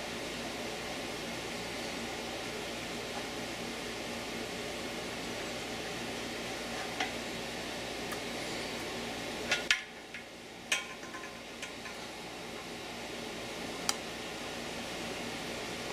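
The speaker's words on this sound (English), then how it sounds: "the air conditioner is noisy" A noisy air conditioner runs as a steady broadband hum and hiss throughout, with a few faint clicks and taps over it and a brief dip near the middle.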